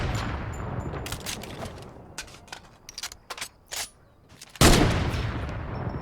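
Gunshots from a shooter video game ring out as sharp, separate cracks at irregular intervals, followed by a louder burst near the end, with no talking over them.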